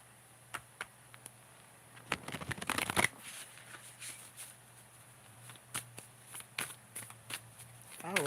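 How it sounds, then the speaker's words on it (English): A tarot card deck being shuffled close up, with soft riffling bursts in the middle and scattered light card taps and flicks before and after, quiet with no talk. "let's shuffle the deck and see"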